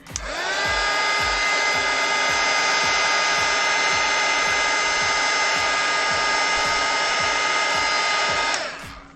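A heat gun blows hot air onto a black hoodie decorated with colored pencil, a loud, steady whining hiss running continuously for about eight seconds before cutting off.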